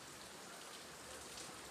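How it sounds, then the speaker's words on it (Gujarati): Steady rain falls in a hiss with no breaks, faint and even across the short stretch, with no voices. "જો મિત્રો વરસાદ આવે બતાવું પાછો."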